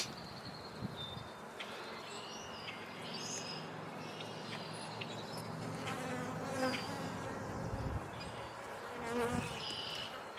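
Honeybees swarm around an open hive frame holding a laying queen, brood and packed pollen. A dense, close, continuous buzz fills the clip, swelling as individual bees pass near, with faint chirps in the background.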